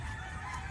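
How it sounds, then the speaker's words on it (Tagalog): A short burst of gamefowl rooster and chicken calls from a backyard farm, heard at a moderate distance against a steady outdoor background, with no one talking. "may mga manok yan mga boss"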